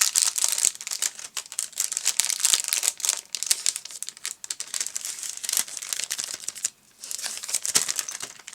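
An envelope crinkling and rustling as it is tugged out of a bag, a steady run of close, dry paper crackles and scrapes with a brief pause before the crumpling resumes.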